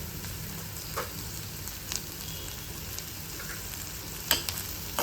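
Turmeric, red chili powder and onion-garlic masala fry in a pan for a bitter gourd curry. A soft, steady sizzle runs throughout with a few light clinks of the spoon against the pan, and no voices.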